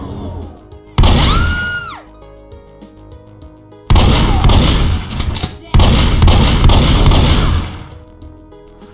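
Loud bursts of video game gunfire come in several heavy blasts, with a pitched whine near the start and lingering rumble between shots.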